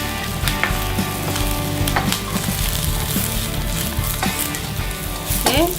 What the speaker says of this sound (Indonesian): Kita tumis bawang merah, bawang putih, cabai, kemudian kita aduk hingga harum.